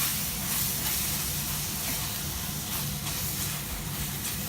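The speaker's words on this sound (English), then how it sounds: "And stir the keema." Minced chicken keema sizzling and being stirred in a pan over a flame, a steady, loud hiss of frying that continues without pause and with no talking.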